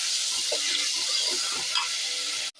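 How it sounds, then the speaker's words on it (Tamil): Ginger garlic paste and onions sautéing for mutton curry make a loud, dense sizzle with soft scraping stir strokes, then cut off abruptly at the end. "அது கூட கொஞ்சோண்டு இஞ்சி பூண்டு பேஸ்ட் போட்டுப்போம். நல்லா வதக்குவோம், பச்சை வாசனை போகிற வரைக்கும்."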